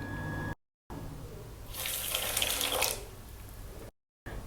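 A cup of water poured from a tap for sweet popcorn, a gushing stream rising for about a second and then stopping, close by and clear.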